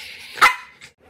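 A long-coated Dachshund gives a single sharp, close bark, followed by a faint softer yip in an otherwise quiet room.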